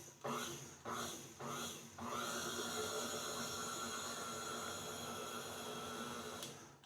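A food processor pulses cookie dough with flour, three short whirring bursts followed by a longer continuous grinding run, close and fairly loud with no speech.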